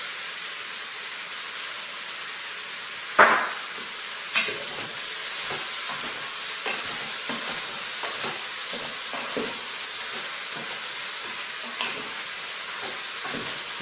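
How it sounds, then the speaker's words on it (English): Pork carnitas with added seasoning stirred in a pressure cooker: a steady sizzle and hiss with soft scraping and a few sharp clinks from the spoon, fairly close, without any talk. "We're going to give it a good stir."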